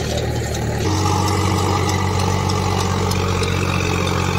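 A tractor bought for a demo drive runs steadily close by, its engine a loud, continuous low rumble and idle-like drone with no breaks and no voices.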